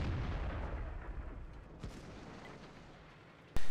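A tank cannon in a video game fires a deep boom that rolls off into a fading rumble. A second sharp, loud shot cracks out near the end.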